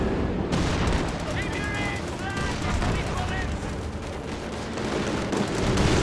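Dense, continuous gunfire from an aircraft strafing run in Company of Heroes 2, a loud, unbroken rattle of shots and impacts throughout, with a voice talking over it in the middle.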